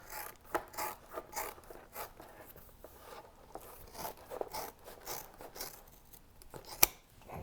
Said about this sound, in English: You'll set your measurement and you'll cut perfect circles in leather.